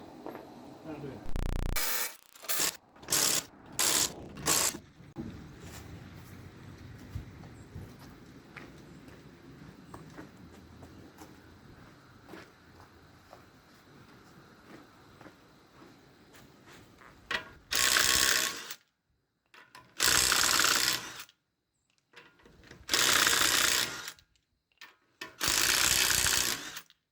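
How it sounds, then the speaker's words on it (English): An impact wrench breaks loose car wheel lug nuts during a tire rotation, with loud, sharp rattling bursts repeated in short separate runs, first at the start and then in four longer blasts near the end, with talking between them. "I know that with this impact, I can bust them loose pretty quickly."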